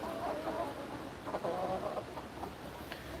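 Brown hens in a backyard coop clucking steadily, a close, continuous murmur of soft clucks with a few sharper calls, no one speaking.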